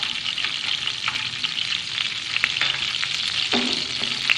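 Dried red chillies frying in melted desi ghee and butter, giving a steady, close hiss and sizzle with a few small pops and crackles, and no talking.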